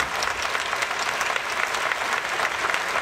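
A live outdoor audience at a summer evening show in a villa park in Livorno breaks into dense, sustained applause for a performer, steady and loud throughout with no break.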